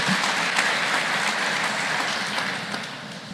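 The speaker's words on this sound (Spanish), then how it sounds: "Démosle un fuerte aplauso al Señor." A church congregation applauds steadily during a Baptist worship service, a dense, even wash of clapping that holds at a constant level throughout and fades slightly toward the end.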